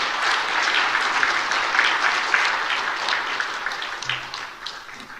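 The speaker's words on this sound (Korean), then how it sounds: "우리 감사의 박수 한번 드리겠습니다." A church congregation claps together in sustained applause, a dense, even patter of many hands that swells slightly and then tapers off near the end.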